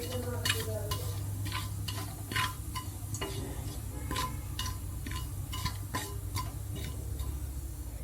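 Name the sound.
mustard seeds and spices sizzling in hot oil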